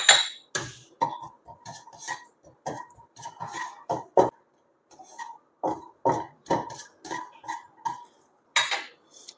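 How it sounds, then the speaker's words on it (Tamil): Ginger and garlic sizzle and crackle in a hot pan over low heat for a South Indian vada curry, with irregular close bursts of frying pops and light clinks of a utensil against the pan. "இப்போ நல்ல சிம்மில் வச்சுட்டு இந்த இஞ்சியும் பூண்டையும் நம்ம வதக்கலாம்"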